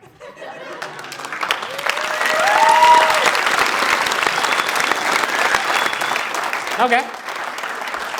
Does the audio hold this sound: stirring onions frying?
no